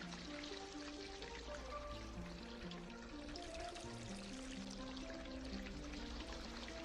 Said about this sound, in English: I need to water you